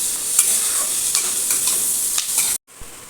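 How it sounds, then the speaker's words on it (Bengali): Chow mein frying in a pan is stirred, giving a steady close sizzle with several scraping strokes, until the sound cuts off abruptly near the end. "আবার মা নাড়ি চাড়িয়ে নিচ্ছে।"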